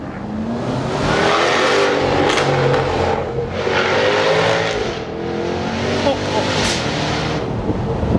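A Jaguar F-Type V8 accelerates hard in first gear inside a tunnel, its loud engine note climbing steadily and then snapping through upshifts, the roar echoing off the walls with a voice heard briefly over it.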